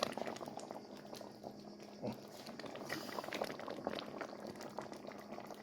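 Homemade tomato passata boiling in a pot, a close, continuous bubbling and popping churn with soft sputters throughout.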